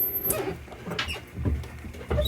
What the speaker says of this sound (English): Cat's bouncing off the walls.